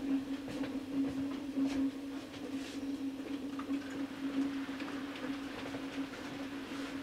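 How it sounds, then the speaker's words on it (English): A train arriving at Dent Station rumbles steadily at a distance, with a sustained low hum and faint rattling clatter throughout, no talking. "The train's arriving to be held at the outer home signal."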